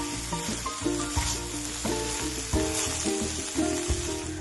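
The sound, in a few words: carrots being fried for gajar halwa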